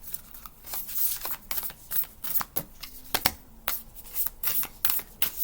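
Nature's Whispers oracle cards being shuffled by hand, close and crisp, a run of quick riffling flutters and soft slaps repeating in uneven bursts with no talking.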